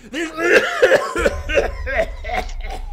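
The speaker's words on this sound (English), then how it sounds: "As he gets in his coughing fit" A person coughs repeatedly in quick, raspy bursts, close by, with a low hum starting partway through.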